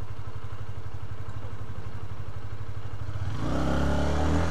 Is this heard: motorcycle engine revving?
yes